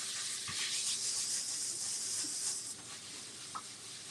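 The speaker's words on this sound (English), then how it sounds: "Just gonna rinse my stencil off." Water rinses a stencil clean during a crayon art session, a soft, steady hiss of running water that cuts off at about the three-quarter mark, leaving only faint background noise.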